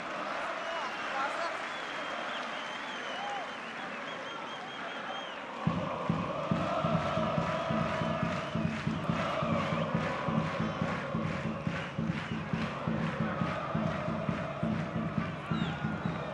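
A stadium crowd at a Europa League football match between Botev Plovdiv and FC Astana claps in steady rhythmic applause that starts abruptly partway through, after a stretch of general crowd murmur, with commentary underneath.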